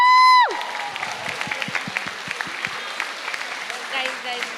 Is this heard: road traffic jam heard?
no